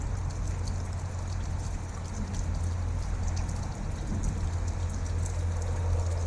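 Steady rain falls continuously during a power outage, a dense even hiss with a low rumble underneath, close and unbroken throughout with no voices.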